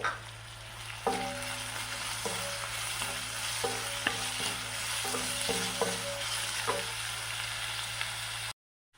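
Long-sliced garlic, shallots, onion, green chillies and ginger sautéing in a pan for a green gram curry: a low, steady sizzle under a constant hum, with repeated clinks and scrapes of a spatula stirring. It cuts off abruptly near the end.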